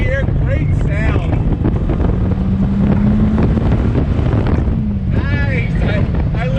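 A Dodge Viper engine revs up while accelerating in second gear, rising in pitch in two pulls, heard through heavy wind buffeting with a voice faintly present.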